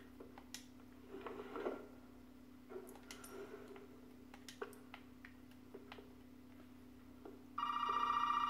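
A telephone rings in a Resident Evil video game, a steady electronic bell tone starting near the end after quiet footsteps and clicks over a low ambient hum.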